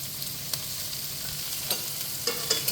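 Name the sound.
stir-frying carrot, onion and capsicum for chowmein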